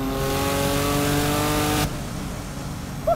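A 1000-horsepower Porsche 911 Turbo flat-six with a GT2 wing roars loudly under hard acceleration, then the note abruptly drops to a quieter off-throttle burble as the driver lifts.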